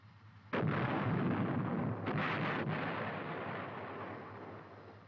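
A military artillery gun fires a single loud, booming shot. A second blast follows about a second and a half later, and the rumble fades slowly afterward, with no voices.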